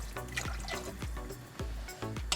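Water pours into a pot of francesinha sauce with whisky, port, white wine and beer, a close, steady glugging stream with repeated gurgling pulses.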